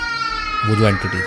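A wailing cry in a voice from a horror story podcast, rising over a steady tonal drone, loud and close, with someone speaking over and around it.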